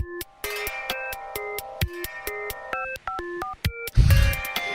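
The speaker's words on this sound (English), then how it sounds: "the use of like phone beeps and dial tones in this has been awesome" Phone-style electronic beeps and dial-tone pitches run through a song, steady tonal blips in stepped melodic patterns over a dense beat, ending with a louder bass-heavy burst.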